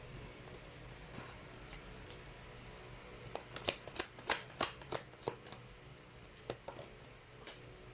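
Tarot cards being shuffled by hand in a quiet room, a run of crisp riffling snaps clustering in the middle with a few softer flicks after, close and fairly quiet.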